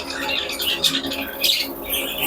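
A chorus of shrill, raspy squawks from several young birds, continuous and fairly close.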